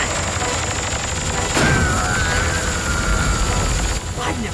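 An animated Transformers robot unleashes a gyro strike, a loud rapid burst of gunfire-like blasts with a whirring mechanical sweep, as a voice shouts during the attack.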